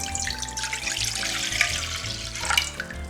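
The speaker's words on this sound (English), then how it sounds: "In a casserole, you're gonna add that much water." Water pours steadily into a casserole pot for a rice-cake dish, a continuous bright splashing rush with small gurgles, close and even throughout.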